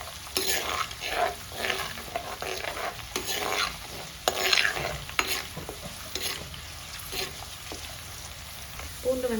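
Garlic cloves frying in hot oil for a small-onion kara kuzhambu, a continuous close sizzle broken by brisk, rhythmic spoon stirs and scrapes against the pan.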